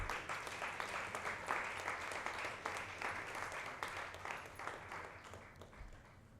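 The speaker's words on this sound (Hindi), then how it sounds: "तालियां रुकनी नहीं चाहिए" Sustained audience applause welcomes a guest at an awards show, many hands clapping steadily with a somewhat distant roomy sound, gradually thinning toward the close.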